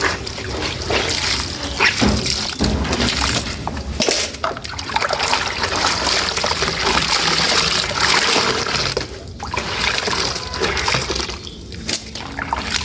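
A heavy suit being rinsed by hand in water gives continuous close splashing and sloshing, with brief pauses and irregular bursts as the fabric is lifted and squeezed.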